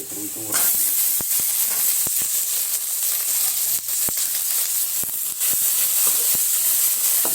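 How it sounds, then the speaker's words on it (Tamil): Onions and tomatoes sautéing in a hot pan for a spicy fish fry, a loud steady sizzling hiss that starts abruptly and continues with brief crackles and pops, close up. "வெங்காயம் வதங்கிடுச்சு, தக்காளி சேர்த்துக்கலாம்"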